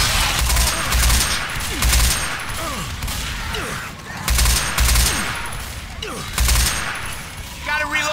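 Gunfire in Left 4 Dead 2 on the custom map Day Break: loud, continuous volleys of rapid shots in repeated bursts, with voices talking over the firing.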